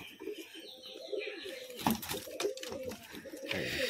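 Pet pigeons at close range giving soft, rolling coos in a few short phrases, with faint background noise and a brief rustle partway through.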